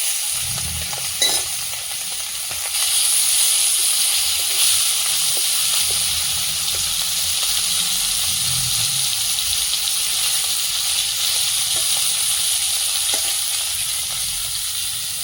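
Gule fish fry in hot oil with a loud, continuous close-up sizzle and hiss that holds steady for the whole stretch, with brief low knocks early on.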